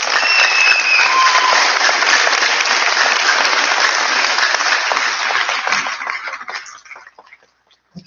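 Sustained loud applause from a graduation audience at a technical high school, a dense wash of clapping for about six seconds before tapering off and fading to quiet.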